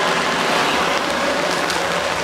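Heavy rain pours at a campsite in Umeå near a sauna building, a loud, close, continuous patter and hiss of drops on surfaces with no break or voices.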